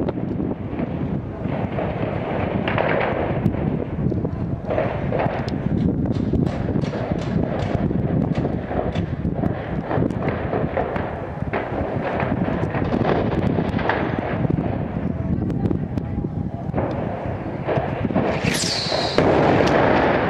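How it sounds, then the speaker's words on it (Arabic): Heavy artillery shelling and gunfire over the city of Daraa al-Balad in 2012, heard as a constant distant rumble broken by frequent sharp bursts and thuds, with wind buffeting the microphone throughout. "قصف عنيف على المدينة، المدفعية ثقيلة"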